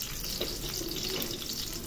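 Garlic frying in hot cooking oil on a home stove, a steady close hiss and crackle with faint sputters running throughout, no talking.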